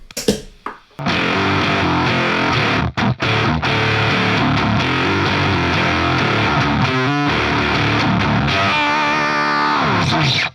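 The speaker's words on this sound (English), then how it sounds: "And then with the Voodoo Octave." An electric guitar runs through a Joyo Voodoo Octave fuzz pedal dialed to a fat octave fuzz, giving a loud, dense, harsh distorted tone over steady riffing with short pauses and no voices.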